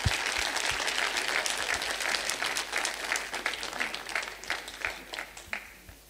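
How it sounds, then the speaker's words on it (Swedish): Audience at a Swedish award ceremony gives a warm round of applause, dense steady clapping from a moderately distant crowd that gradually thins out toward the end. "Du ska få blommor och diplom och en jättestor applåd."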